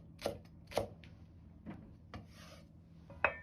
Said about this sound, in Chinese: 大蔥少許切成蔥花。